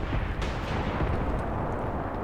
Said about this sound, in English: the half-tracks from over there are still shooting and suppressing